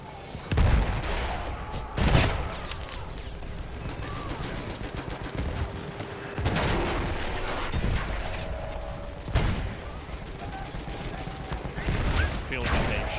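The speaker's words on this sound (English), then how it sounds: "Machine gun right there." Machine gun fire in Battlefield 1, with repeated close, loud bursts of rapid shots cracking over a steady roar of battle noise.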